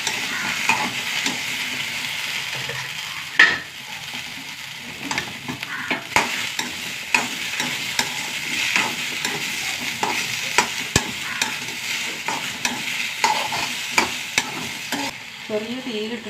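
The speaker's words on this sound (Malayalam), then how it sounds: "അത് നമുക്ക് വെണ്ടയ്ക്കൊന്ന് വറുത്തെടുക്കാം കേട്ടോ." Quarter kilo of fresh okra dry-fried without oil in a pan over low heat, a continuous close crackling sizzle broken by repeated scraping and clinking of a spoon stirring against the pan, with no talk.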